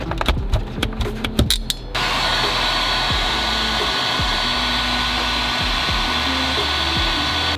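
In a Toyota GR86, an air suspension compressor starts after a few sharp clicks and then runs as a steady, loud, close electric whine with a faint rattle underneath.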